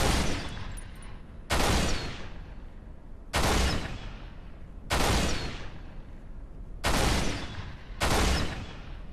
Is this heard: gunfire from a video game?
yes